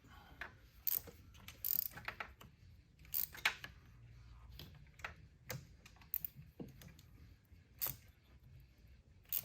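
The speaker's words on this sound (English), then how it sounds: "I'll use a ratchet and get them all snugged up" Ratchet snugging spark plug coils on a Ford Escape engine, quick clicking bursts of the pawl repeated in short runs, close and fairly faint, no talk.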